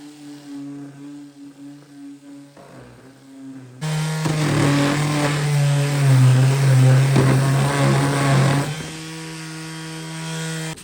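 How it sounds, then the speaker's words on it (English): A power sander works over the wooden frame of an Art Deco buffet, starting with a low hum before a loud, sustained sanding drone takes over for several seconds and then drops back to a quieter whir. "Now I'm going to continue sanding on the frame."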